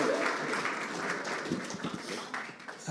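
A sales leaders awards event audience applauds the co-host, Owen Richards, with steady moderate clapping that thins toward the end.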